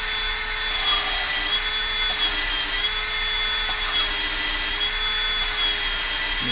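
A power drill spins steadily to lap a valve on a 1964 Ford F350 dump truck engine, giving a loud, continuous whine close by with no talking.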